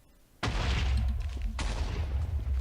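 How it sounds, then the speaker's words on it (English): A block of TNT explodes in Minecraft with a sudden loud boom, followed by a second blast about a second later, as in a chain of detonations, with rumbling debris continuing underneath. "the TNT will light, wait, and then explode."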